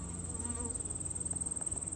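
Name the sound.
honey bees buzzing around an open hive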